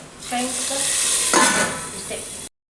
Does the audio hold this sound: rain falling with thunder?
no